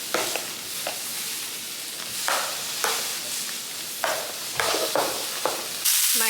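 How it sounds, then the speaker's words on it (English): Green beans frying loudly in a hot pan, a constant sizzle and hiss broken by repeated stirring scrapes, close and alone. "My green beans are over here doing the most. They are being so loud."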